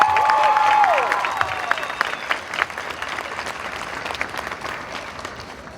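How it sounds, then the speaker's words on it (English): A graduating class of 2019 and their audience applaud in a large hall, with a dense wash of clapping that slowly thins out, and a few voices heard under it. "give themselves a nice big round of applause"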